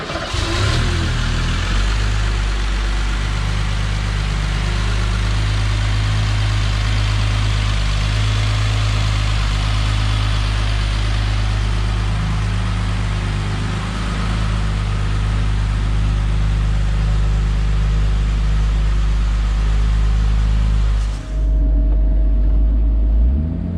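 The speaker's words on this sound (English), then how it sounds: "we're going to start the engine up from standing outside the vehicle" A 1968 Mercedes 280SL engine cranks and catches, then settles into a loud, steady idle with a deep throbbing rumble before cutting off near the end, heard from outside the car.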